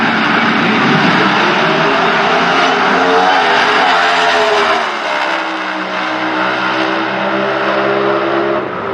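NHRA drag racing cars at the Summit Racing Equipment Nationals roar down the track at full throttle, a loud sustained blast of engine noise that drops slightly in pitch partway through and keeps howling to the end.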